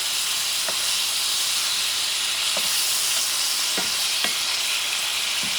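Shrimp sizzle steadily in garlic sauce in a hot pan, a loud continuous frying hiss broken by a few faint clicks of stirring, with no talking.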